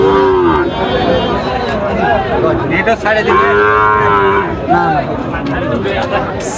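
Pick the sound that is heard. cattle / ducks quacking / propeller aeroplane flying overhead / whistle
cattle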